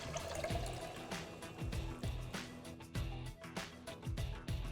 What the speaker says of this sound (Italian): Aggiungo i pomodori passati.